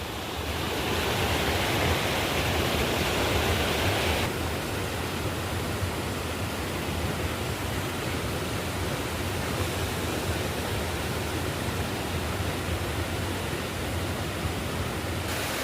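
Water runs steadily across a slippery village mountain path in Garhwal, a dense, continuous rush that stays loud and close for the whole stretch with no voices over it.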